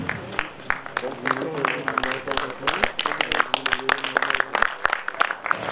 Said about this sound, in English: And keep that applause coming